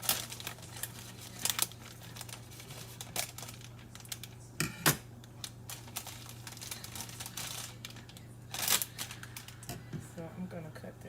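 Bouquet wrapping paper crinkles and rustles in irregular bursts close by, with sharp crackly spikes over a steady low hum.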